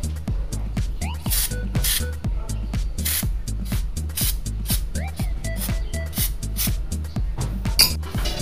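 Brake cleaner is sprayed in short repeated hissing bursts onto Yamaha NMAX scooter brake parts, over a steady low rhythmic engine thump, with faint clinks of parts nearby.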